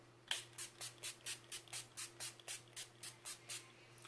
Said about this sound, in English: I'm going to spray my face with this NYX Dewy Finish setting spray